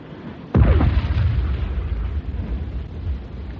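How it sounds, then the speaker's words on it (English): A submarine's deck gun fires a single loud, close blast in a WWII setting, the boom rolling and rumbling away for several seconds afterward. "better finish her off with the gun"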